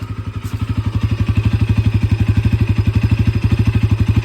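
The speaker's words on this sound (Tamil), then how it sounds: "எக்ஸாஸ்ட் நோட் அவ்வளோ அழகாக இருக்குங்க." Motorcycle exhaust note from a bike (an NS model), loud and close, with a steady rapid pulsing idle-like beat running throughout and no talk.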